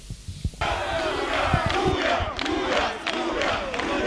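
Football supporters cheer and applaud as a crowd, a dense, sustained roar of voices and claps that swells loud from about half a second in and holds steady to the end, with some shouting standing out.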